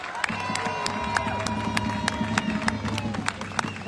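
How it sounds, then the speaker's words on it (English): Crowd at a Free Palestine street rally clapping and cheering, a loud busy mix of applause, shouts and whoops with sharp individual claps standing out, close and continuous, with voices calling out over it. "a big round of applause."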